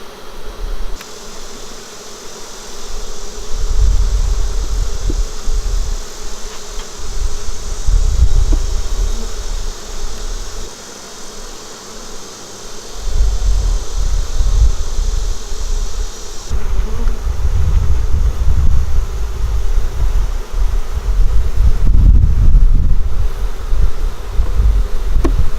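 Honey bees buzz loudly and continuously during a nuc hive install, a dense droning swarm close by, with wind-like rumbling and handling noises swelling and fading underneath.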